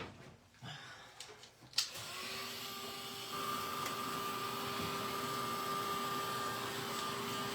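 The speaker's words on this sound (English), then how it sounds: "Let's see if my heat tool's plugged in." An electric heat tool drying gel medium on an art journal page starts after a few handling clicks, then blows as a steady, loud whirring hum with a constant whine.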